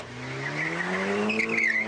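An Audi TT with a 2-litre turbo engine driving hard, its engine note rising steadily as it accelerates, with tyres squealing near the end, loud and close with no talk.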